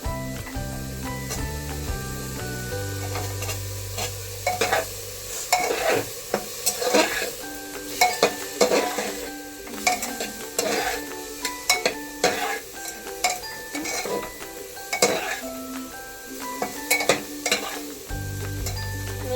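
Chicken meat sizzles in a hot pan while a utensil stirs it, making repeated scraping and clinking bursts over a constant frying hiss, with no one talking.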